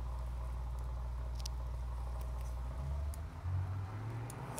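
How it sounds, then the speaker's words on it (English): A big truck engine in the Automation car-building game runs through its test cycle, giving a loud, steady low drone that shifts pitch in its second half. "That is a loud engine."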